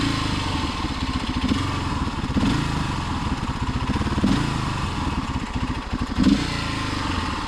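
A motorcycle engine idles steadily nearby, a low uneven chugging with a few brief rises in revs, with no voices.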